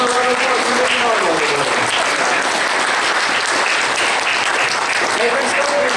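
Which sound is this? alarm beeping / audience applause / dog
audience applause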